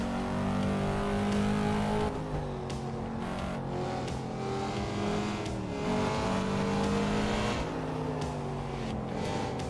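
Volvo car engine held at full throttle in Assetto Corsa on a Japanese road, a loud continuous droning roar with harmonic bands rising and falling through gear changes over the full stretch.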